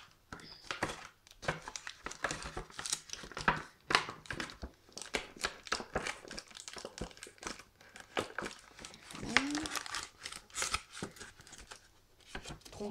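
Trading card booster packs, including Pokémon, Yu-Gi-Oh and Euro 2016 sticker packs, are torn open by hand in a close, busy stream of crinkling foil and ripping wrapper noises with short pauses in between.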